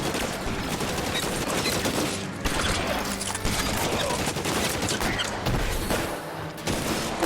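Dense, sustained automatic assault rifle fire in the L.A. Noire video game, continuous loud bursts with booming low end over about seven seconds, almost no pauses.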